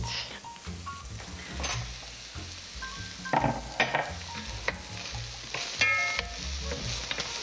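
Steady sizzling of onions frying in butter in a hot pan, with occasional clinks and scrapes of a utensil stirring them. No talking.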